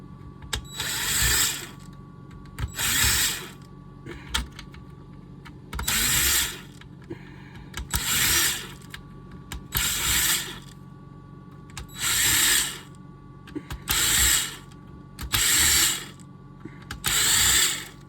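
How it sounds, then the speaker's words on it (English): A power screwdriver with a T6 bit removes screws from the touch screen of a 2015–2017 Nissan Rogue, whirring in about eight evenly spaced bursts with brief quiet gaps between them. "You just want to remove all the screws that you see."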